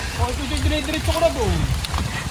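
Steady rain patters and hisses on thick leaves in the background while a person talks over it.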